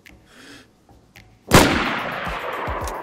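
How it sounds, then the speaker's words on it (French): Gunfire in the video game DayZ: after a quiet stretch, a single loud sharp gunshot cracks out and rolls into a long echoing tail with a few fainter follow-up thumps. "ça tire au loin"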